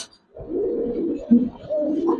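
Giribaz and coloring pigeons coo in a loft, a close, low, throaty burbling that rolls on almost continuously after a brief quiet start, with a few louder swelling notes.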